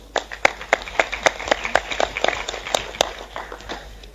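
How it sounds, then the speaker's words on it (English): Audience applause following a speech at a Brussels conference on Somalia: a short burst of scattered, uneven clapping from a modest crowd, with sharp individual claps standing out over a steady patter. "We always have time for applause."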